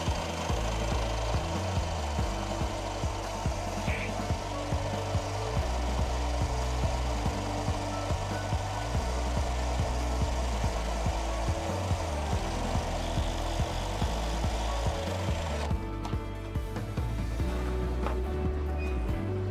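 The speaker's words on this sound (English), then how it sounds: "And what we use is then just a cordless drill." Cordless drill powering a pipe cutting and chamfering tool as it cuts a clamped pipe and bevels each end, a steady, loud grinding and rasping drone that runs without a break, close by with no talking.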